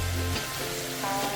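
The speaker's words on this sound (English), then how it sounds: "we saute the vegetables with the spice from the soup mix" Vegetables sautéing with soup-mix spice in a pan give a steady, soft sizzle and hiss throughout, fairly quiet and continuous with no voices.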